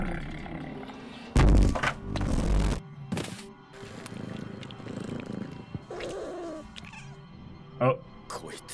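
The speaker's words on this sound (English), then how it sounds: "You can hear the purring in the background." A black cat in a Japanese anime scene purrs low and steady in the background, beneath loud thumps, exclamations and Japanese dialogue.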